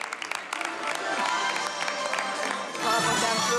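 Applause from a group at an event at a juvenile detention facility, a dense patter of clapping with some cheering that holds steady and swells louder near the end.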